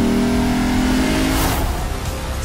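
A 2020 Lexus RC F with a lightweight titanium exhaust accelerates hard, its engine revving loud and close in a steady rising roar that sounds alone throughout.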